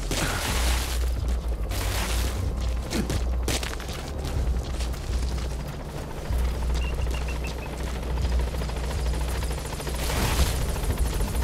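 A support helicopter arrives at a landing zone in Metal Gear Solid V, a loud continuous rotor drone with booming blasts and heavy mechanical rumble layered over it.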